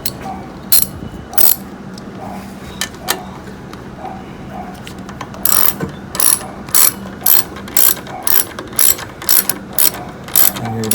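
Close ratchet clicking tightens bolts on a Honda EU7000is generator, coming first in scattered short runs and then as a steady series of rhythmic strokes near the end.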